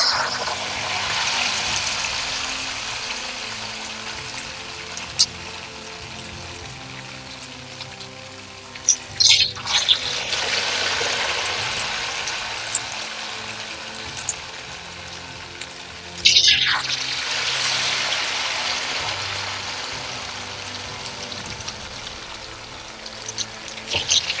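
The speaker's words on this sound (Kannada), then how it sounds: "ಈರುಳ್ಳಿ ಪಕೋಡ ಯಾವ ತರ ಉಂಡೆ ಮಾಡ್ತಿರೋ ಆ ತರ ಉಂಡೆ ಮಾಡಿಕೊಂಡು ಎಣ್ಣೆಗೆ ಬಿಡಬೇಕು" Potato pakoda fritters frying in hot oil, a loud, continuous rain-like sizzle that surges twice as fresh batter drops in, with small clicks and no talking.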